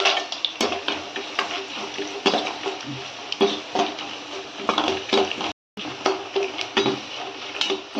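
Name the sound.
peanuts added to garlic frying in a pan, Tamil curry leaf rice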